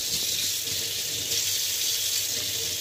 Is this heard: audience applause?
no